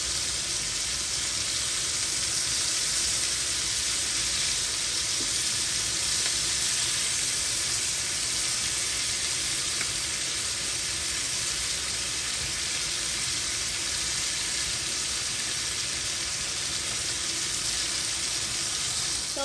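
Scallops sear in a hot pan with a constant, even hiss and sizzle that keeps a steady level from start to finish, and no one speaks.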